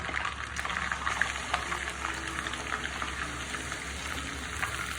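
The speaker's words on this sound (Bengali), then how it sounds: "পেঁয়াজটাকে আমি তেলের সাথে ভালো করে কষিয়ে নেব।" Onion paste frying in hot oil for a chicken roast, a steady close sizzle with soft crackles continuing evenly throughout, no voice over it.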